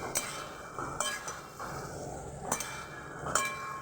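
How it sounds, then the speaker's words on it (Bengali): A spoon stirs a cooked brinjal and long bean curry in a pot, making a few soft, sparse clinks against the metal at a slow, irregular pace, quiet and close with no speech. "এটা নাড়াচাড়া করে নেবো আমি একটু"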